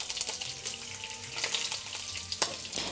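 Bacon frying in a pan with a soft, continuous crackle and scattered sharper pops, faint and close, with no voices.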